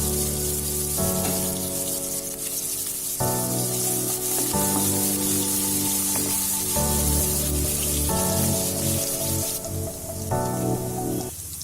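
Crushed garlic frying in hot oil for Chettinadu chicken chukka, a steady loud close sizzle with crackling pops running throughout, with no talk over it.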